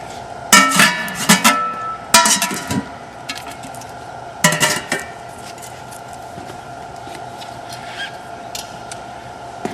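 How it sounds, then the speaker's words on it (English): Lids clank and rattle onto machine oil tanks at a concrete filling rig, three clusters of sharp metallic knocks and scrapes close by, then quieter scattered taps and handling noise over a steady low hum. "We got to put the lids back on."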